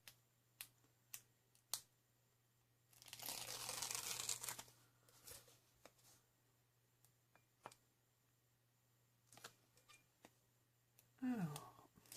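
Quiet room with scattered small clicks, then a burst of ripping, crackly tearing sound lasting about two seconds, followed by more light handling noises.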